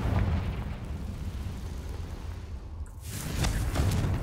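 A Confringo blasting-spell explosion in the Hogwarts Legacy video game: a loud, sustained roaring blast that dips briefly, then swells again into a second burst.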